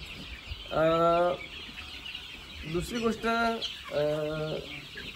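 Free-range country chickens cluck in a few short bursts nearby in a poultry shed, with a person speaking briefly between the calls.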